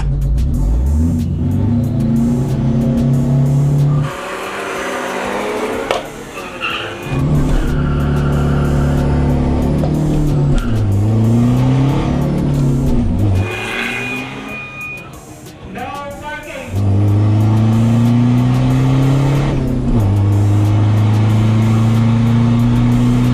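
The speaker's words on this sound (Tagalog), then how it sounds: "Ito naman kay Boss Bobot na van" A modified van accelerates hard in a drag race, engine note climbing through gears in loud sustained revving bursts, with brief drops between pulls and talk in the background.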